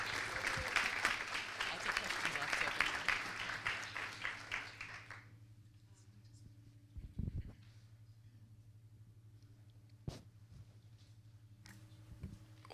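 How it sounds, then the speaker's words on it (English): A congress audience at an annual general meeting in Paris applauds for Chanel, steady crowd clapping for about five seconds that stops abruptly, followed by quiet room hum and a few scattered knocks. "can we please get a round of applause for Chanel for taking initiative on this"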